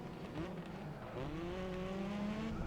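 Race cars in Grid Autosport on the Nintendo Switch roar in a steady engine drone, with pitches rising and shifting through gear changes as several cars run close together.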